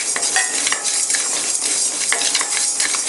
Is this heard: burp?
no